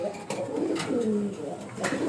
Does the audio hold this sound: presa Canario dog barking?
no